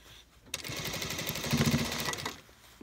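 A sewing machine runs steadily for about two seconds as it stitches the hem of a Burberry trench coat sleeve, a close, loud, even mechanical whir with rapid needle chatter, beginning and ending abruptly.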